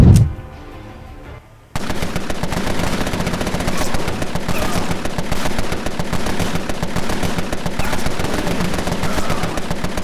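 Gunfire in Empire of Sin, including sniper shots, erupts after a quiet opening into a loud, sustained barrage of rapid machine-gun-like bursts and heavy reports, with no talk over it.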